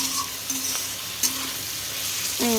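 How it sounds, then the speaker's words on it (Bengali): Onion, garlic and capsicum frying in oil in a pan for pasta, a steady close sizzle with brief clinks of a stirring utensil against the pan. "পেঁয়াজ আর ক্যাপসিকাম দিয়ে দিয়েছি দিয়ে এটা এখন একটু ভাজা ভাজা হবে"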